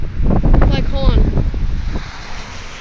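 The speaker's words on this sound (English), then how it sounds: "once a big gust of wind comes, you can see it pulling out of the ground" Strong Hurricane Sandy winds buffet the microphone in a loud, roaring gust that swells and then eases, as a voice breaks in briefly partway through.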